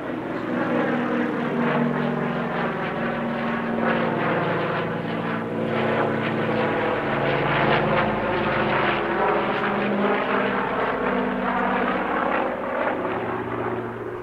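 Flying Bulls Douglas DC-6 piston propeller airliner at an airshow, its multiple radial engines droning loud and close in a steady, throbbing roar with pulsing harmonic beats that swell and shift as it passes, with no voices.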